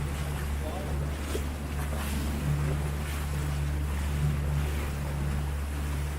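A fishing boat cruises on the Hauraki Gulf, its engine giving a steady low drone under rushing water, wind buffeting and splashing waves, loud and close throughout.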